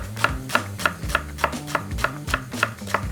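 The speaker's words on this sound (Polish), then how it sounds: "i do tego siekamy białą część pora. Wzdłuż i wyjdą nam takie ładne półksiężyce. Kroimy drobniutko." Steady knife chops finely slicing leek on a cutting board, about ten crisp strikes in an even rhythm, close and clear with no talking.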